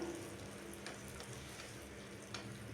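Shallots or onions frying in a pan, with green chillies added, for a home-cooked amaranth greens and ivy gourd meal; a steady, low sizzle runs throughout with faint stirring scrapes and no talk.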